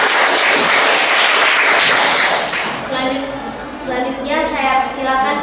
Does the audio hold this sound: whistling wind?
no